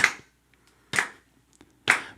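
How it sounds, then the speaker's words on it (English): Hands clap together in three sharp, evenly spaced claps about a second apart, close and crisp with silence between them. "Can you guys clap? Like, give me a beat?"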